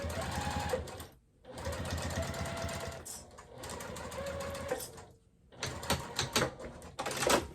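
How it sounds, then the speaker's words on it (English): Sewing machine stitching and back stitching a seam on a wristlet pouch: steady fast mechanical clatter in three bursts with short pauses between, close and loud, with no talk. "just back stitch a couple times over it, just to kind of really reinforce that, that seam there"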